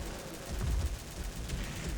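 Rapid gunfire from a Greedy Wolf gun in the XSHOT shooting video game rattles on as a dense, continuous barrage for the whole stretch, steady and moderately loud with no talk.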